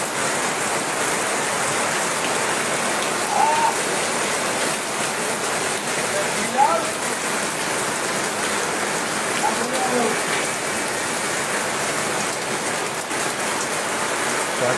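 Torrential rain pours across Deganga in a steady, dense hiss of downpour on surfaces, constant and loud throughout, with a few faint bird chirps rising briefly above the wash.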